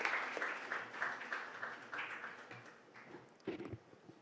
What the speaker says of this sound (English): Ladies and gentlemen, please huge round of applause to Dr.